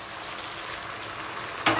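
Spiced chicken for Kabuli pulao sizzles steadily in the pot until one and a half cups of hot water go in. A sudden louder hissing burst comes right at the end, with no talk.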